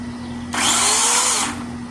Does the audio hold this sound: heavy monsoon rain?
no